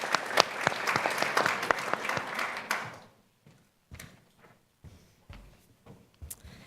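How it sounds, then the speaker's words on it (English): Audience applause for a presenter arriving at a university social innovation showcase, a dense loud burst of many hands that stops abruptly after about three seconds, followed by scattered faint claps and small room noises. "We can keep applauding for her"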